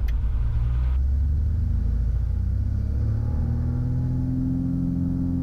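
Beechcraft Bonanza piston engine run up to full power with brakes held before takeoff, a loud, steady low drone and propeller rumble heard from inside the cockpit, holding constant without any talk.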